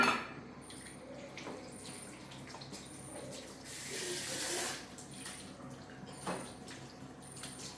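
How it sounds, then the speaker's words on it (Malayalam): Milk poured into rice payasam, a traditional Kerala Onam sweet: a brief splashing pour swells mid-clip over a quiet kitchen background with faint clinks of pots and utensils. "ദേ 1-ാം പാൽ ഒഴിക്കുന്നു."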